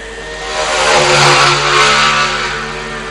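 Racing motorcycles in a Formula 3 road race, including small RS125 GP bikes, roar down the front straight at a road circuit, their engines swelling as they pass close by and fading away, with no talk.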